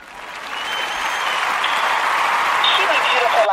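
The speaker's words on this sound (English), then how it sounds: "Let's give her a round of applause as she shares with us She." Applause from an audience swells up and holds steady, a dense wash of clapping building in the first second and continuing throughout.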